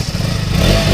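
The single-cylinder engine of a KTM Duke 200 BS6 motorcycle runs up close in a loud, steady mechanical drone with a rapid pulsing beat, and nobody speaks.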